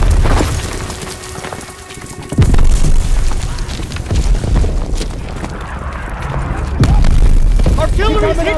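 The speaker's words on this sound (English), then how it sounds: "Artillery's hitting the beach!" Heavy artillery shells burst on a D-Day beach in Call of Duty WW2, deep booms landing around 2.4 and 7 seconds over a rumbling battle din, with voices shouting amid the chaos.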